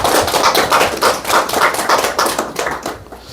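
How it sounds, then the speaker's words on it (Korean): A church congregation applauds together during a Thanksgiving Sunday service, a dense, steady wash of clapping with rhythmic pulses that fades near the end. "박수를 한번 올려드리도록 하겠습니다"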